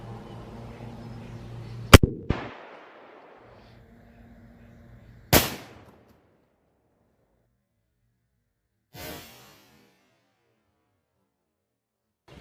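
Two sharp, loud rifle shots from a .338 Lapua Magnum or .50 BMG crack out a few seconds apart outdoors, each with a short rolling echo, followed by a fainter distant impact and a steady low background hum between them.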